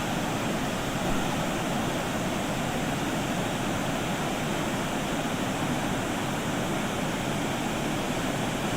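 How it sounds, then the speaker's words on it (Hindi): Floodwater rushes from a dam release at Bhavnagar, Gujarat, during heavy monsoon rains, a steady, dense roar of gushing water that stays loud and unbroken throughout. "जिसमें बांध से पानी छोड़ा जा रहा है ताकि पानी को काबू में किया जा सके"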